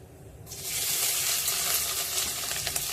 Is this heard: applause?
no